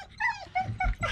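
At a river, a dog gives several short, high whimpers and yips in quick succession, close to the microphone, with soft low rustling underneath.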